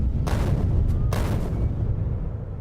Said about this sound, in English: They run out and they explode.